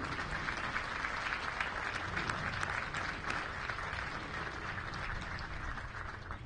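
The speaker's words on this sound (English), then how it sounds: "Please join me in a round of applause for this great Army and Marine family." Sustained audience applause at a U.S. Army Old Guard change of command ceremony, a dense, even wash of many hands clapping at moderate distance for several seconds, no voices over it.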